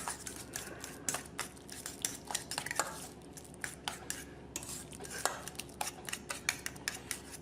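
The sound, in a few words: mixing avocado deviled egg filling ingredients with olive oil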